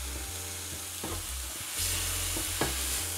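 Garlic, onion and chili fry on a heavy teppanyaki plate for nasi goreng, sizzling steadily up close while a spatula stirs and scrapes across the metal a few times, with no talking.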